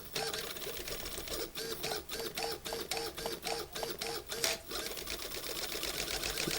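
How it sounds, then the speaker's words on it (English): A small RC car steering servo on a Hobbywing Quicrun Fusion SE build whirs in a rapid series of short mechanical bursts, the clicking buzz repeating back and forth for several seconds at close range. "Let's show you guys the servo."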